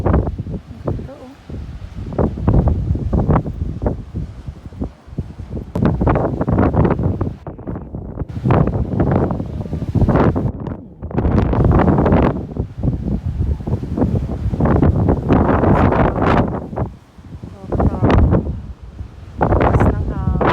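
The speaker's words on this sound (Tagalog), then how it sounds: "Lakas ng hangin." Strong coastal wind gusting across the microphone at the white chalk cliffs of Seaford, England, a loud, continuous buffeting roar that rises and dips, with people talking intermittently underneath.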